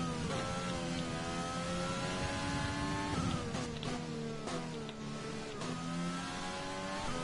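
A race car engine in the video game F1 2020 during qualifying in Bahrain whines steadily at high revs, with several quick gear changes shifting the pitch up and down.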